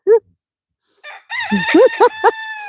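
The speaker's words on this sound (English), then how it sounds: "A live look at the chickens and the turkey." A rooster crows loudly and close by, with a few short clucks and calls from a flock of chickens and a turkey before and around it.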